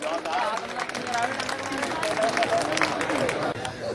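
An audience at a mushaira poetry gathering in Sambhal applauds in a dense, sustained wash of clapping, mixed with crowd murmur and scattered voices for the whole stretch.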